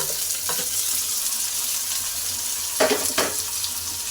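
Steady, loud sizzle of frying in a pan while cooking egg rice, browning the ingredients until they change colour, with a few brief stirring knocks near the end.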